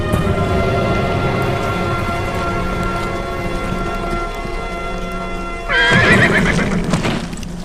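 Horses neigh loudly in a rugged outdoor setting, a sustained whinny rising near the end over a continuous bed of hoof movement and ambient noise, with no talking.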